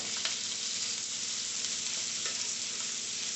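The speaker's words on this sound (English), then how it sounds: "I just want to get a really good sear on the meat." Ribs searing in a hot pan on high heat give a steady, close hissing sizzle that stays even throughout with no talking.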